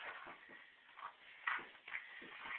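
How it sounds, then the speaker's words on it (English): Soft, rapid rustling scratches come in short bursts, close and muffled, with brief pauses between the flurries. "That's the dog scratching."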